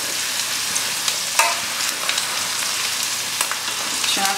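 Turmeric frying in a pan gives a steady close sizzle with small crackles and the odd scrape of stirring, with no voices.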